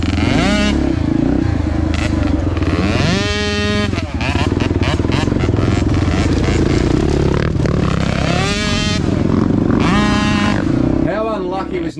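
Kids' 65cc dirt bikes racing on a homemade motocross track, their engines close and loud, repeatedly revving up in rising whines and dropping back, with people talking over the noise.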